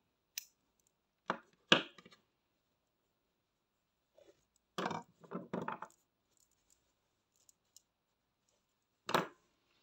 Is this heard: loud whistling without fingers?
no